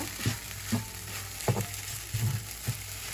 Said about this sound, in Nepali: अब यसलाई एकैछिन फेरि म भुट्दैछु, फेरि छोपेर।